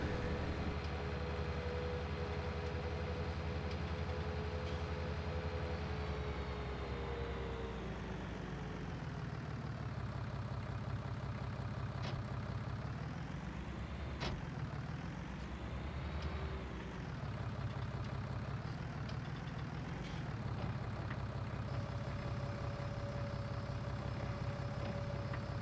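A tractor engine in Farming Simulator 19 runs as the tractor is driven and made to slide, a steady low droning hum whose pitch swells and dips partway through, with no talk.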